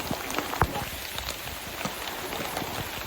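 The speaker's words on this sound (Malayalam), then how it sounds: "പെരും മഴ കേട്ടോ" Heavy rain pours outdoors during a fishing outing, a steady close wash of patter with a few sharper drops standing out.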